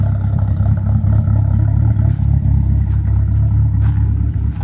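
A turbocharged C20NE engine in a rear-wheel-drive Opel Calibra, loud and close, holding a steady droning rev under load while driving, with a brief dip and recovery near the end.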